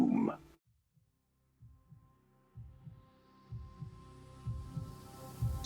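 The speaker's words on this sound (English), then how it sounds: "her heart pounding like a drum in her chest" A slow, deep heartbeat pounds in a tense horror story, starting faintly after a brief voice and growing steadily louder as the thumps repeat in a regular rhythm.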